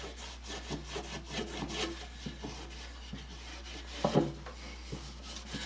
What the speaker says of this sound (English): I'm going to polish up the wax on this base